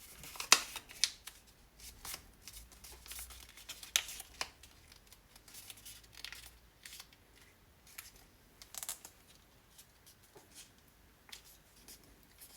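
Paper being folded over and over for a money spell, soft close crinkles and crisp creases in irregular bursts, with quiet rustling between them.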